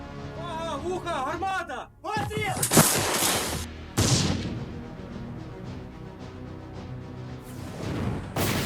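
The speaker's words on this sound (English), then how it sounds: "With each explosion, fire adjustments were made with increasing accuracy." Artillery shell explosions in a war battle scene, several sharp loud blasts with booming decay spaced a few seconds apart, mixed with narration-style speech and background sound.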